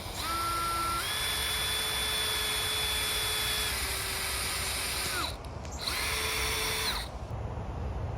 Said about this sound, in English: now we're going to drill the holes where we want to put the camera